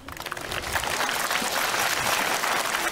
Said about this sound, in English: It's also clapping.